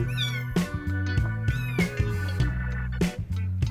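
A thin, very skinny mother cat of month-old kittens meows repeatedly and loudly up close, her cries arriving in quick succession over a steady low hum.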